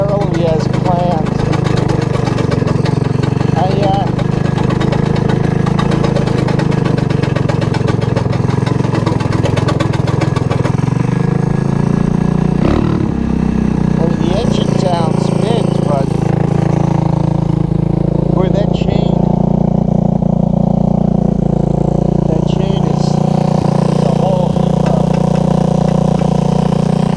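A modified Honda ATC 185 three-wheeler engine running steadily, a loud continuous mid-pitched drone close by with slight shifts in pitch and no pauses.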